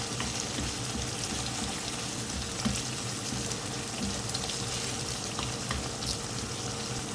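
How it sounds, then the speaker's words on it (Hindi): Softened tomatoes are mashed with a spoon in a pan for chana biryani, a low steady sizzle and bubbling with soft squelches and occasional spoon taps, no talking. "इसको मैश कर दूँगी इस तरह से मैं स्पून से।"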